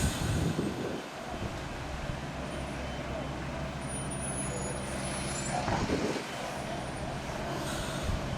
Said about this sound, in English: a long reversing manoeuvre of nearly a quarter of a mile of the lorry reversing, all the way up a small country road